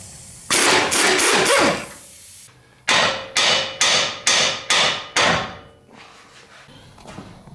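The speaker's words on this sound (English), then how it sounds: "It looks to be like a pitman arm puller to pop that idler arm taper free." Heavy hammer blows on a pitman arm puller, driving the idler arm taper free from the steering linkage of a 2011 Chevy 3500 Duramax: a quick burst of about five ringing strikes, a pause, then seven evenly spaced loud blows.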